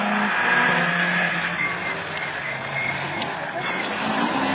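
A Honda Civic rallycross race car in a Division 4 French championship round at Lavaré roars steadily at a distance, its engine drone blending with crowd and track noise.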